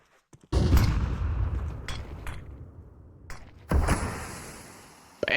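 Gunfire in Counter-Strike 2 during a headshot replay: two sharp close shots a few seconds apart, each followed by a decaying rumble, with softer clicks and thuds between them.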